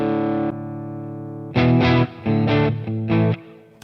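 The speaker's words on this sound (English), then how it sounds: "This is just my tele into the katana behind me." A Telecaster electric guitar played through a Boss Katana amplifier, a held chord ringing for about a second and a half, then a run of chopped, punchy chord stabs, close and loud.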